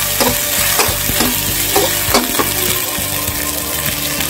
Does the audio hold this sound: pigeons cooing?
no